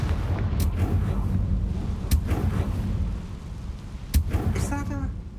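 Confringo fire spell blast in the Hogwarts Legacy video game: several sharp, booming bursts cut through dense, continuous game ambience, with a voice-like murmur mixed underneath.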